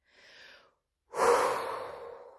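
A woman out of breath breathes heavily: a short, thin intake followed after a pause by a long, loud, rushing exhale that slowly fades.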